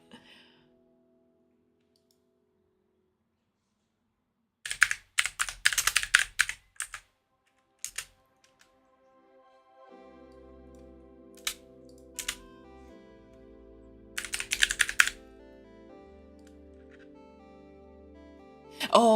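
Typing on a computer keyboard while making a game environment comes in separate quick bursts of clicky keystrokes, close and crisp, spread over quiet stretches and faint background music.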